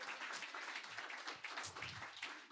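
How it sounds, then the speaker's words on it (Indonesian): Church congregation clapping in praise during a sermon, a quiet, fairly distant patter of many hands that holds steady throughout without voices on top. "yang setuju boleh berikan tepuk tangan yang terbaik bagi Tuhan"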